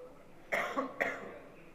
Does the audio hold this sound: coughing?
yes